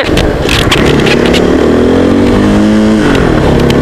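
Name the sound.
motorcycle with straight-pipe exhaust revving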